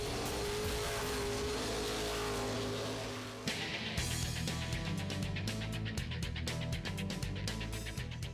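A 3,400-pound NASCAR race car engine drones at a steady high pitch, then shifts into a rough, pulsing rumble that continues to the end.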